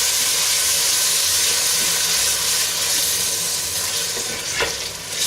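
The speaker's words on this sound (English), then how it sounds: "I've got my onions just sizzling away over a medium heat until they're soft and brown" Onions sizzle in a pan over medium heat for a lamb dopiaza curry, a loud, steady close-up frying hiss with crackle and a little stirring, heard alone without talk.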